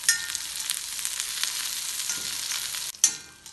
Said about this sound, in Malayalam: ഇതിന് കുറച്ച് സമയം ഇളക്കി വഴറ്റാം.